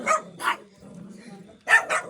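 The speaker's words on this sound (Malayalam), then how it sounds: "കുറേ ഡോഗ്സ് ഉണ്ട്, എല്ലാ വീട്ടിലും ഓരോരോ ഡോഗ് വെച്ചിട്ടുണ്ട്." A dog barks sharply several times in two short bursts, fairly close, with a quiet pause between them, in a neighborhood in the Philippines.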